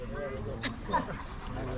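A hunting dog puppy at a hunting dog show gives a couple of short, fairly faint yips, heard under someone talking nearby.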